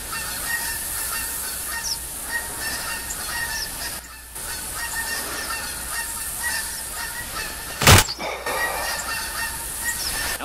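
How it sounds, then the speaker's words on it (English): A flock of geese honks steadily and fairly close in the hunting video game theHunter 2015, with one sharp loud burst near the end. "Those geese are getting on my nerves."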